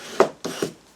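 Two quick dry rubbing swipes as folded cardstock is burnished flat, close and brief, without talk.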